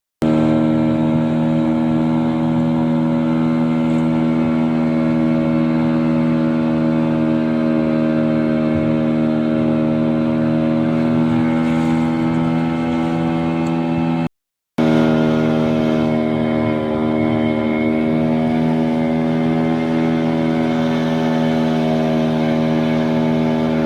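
A Kerala fishing vallam's engine runs after being started at sea. It holds a loud, steady, close droning hum for the whole stretch, broken only by one short gap before resuming unchanged.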